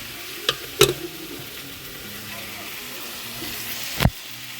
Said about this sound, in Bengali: এখানে আলু ভাজতে বসিয়ে দিয়েছি